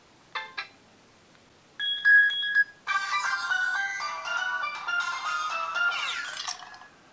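A phone ringtone plays through a small loudspeaker: a few short beeps, then a bright melodic tune with clear tonal notes, moderately loud and alone.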